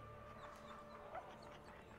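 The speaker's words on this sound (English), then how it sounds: "That's a dog." A dog bark from the video game Dauntless: a short yip or woof sitting low in the mix under steady ambient game sound.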